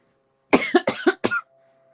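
A series of four or five harsh, chesty coughs from a lingering cough, in quick succession, close and loud, followed by quiet.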